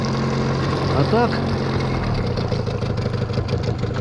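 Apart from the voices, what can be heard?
outboard jet boat motor running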